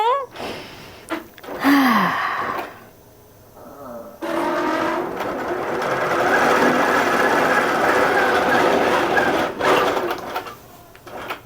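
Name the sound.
sewing machine sewing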